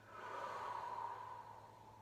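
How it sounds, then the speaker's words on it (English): A single long, breathy exhale during a Pilates exercise, close and soft, rising and then tapering off over about two seconds without speech. "Breathe in, breathe out"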